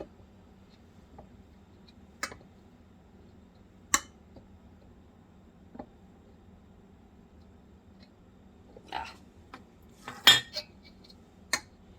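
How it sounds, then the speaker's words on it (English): New metal lids set onto glass canning jars during home chicken canning: a handful of sparse, crisp metallic clicks and taps spread over quiet, with a small clustered rattle near the end, close by and without talk. "Now we put on the new lids."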